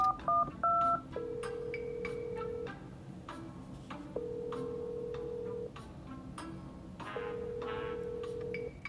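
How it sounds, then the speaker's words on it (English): A telephone keypad being dialed: a quick burst of short tones, then three long, steady ringback-like tones in even succession over a faint room background. "I'm gonna try calling Mom again."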